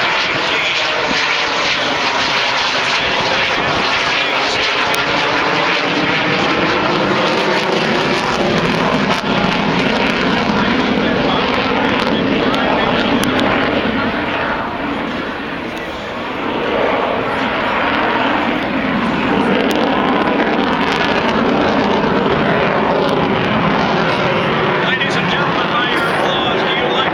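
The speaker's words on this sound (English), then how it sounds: "demonstrate the maneuverability and superior weight ratio of the F-18" An F-18 jet fighter roars overhead at the Stuart Air Show, a loud continuous engine rumble and whoosh that swells and shifts in pitch as it maneuvers, with a brief dip midway before surging again.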